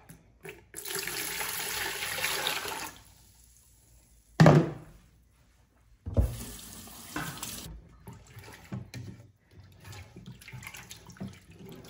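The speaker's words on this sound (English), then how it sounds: "Then I'm gonna add in my water." Water running from a tap and pouring onto sorrel husks in a bowl while making a sorrel drink, a rushing stream that stops, a thunk, then splashing and trickling resume, close up.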